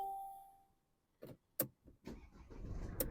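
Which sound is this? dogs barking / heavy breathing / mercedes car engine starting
mercedes car engine starting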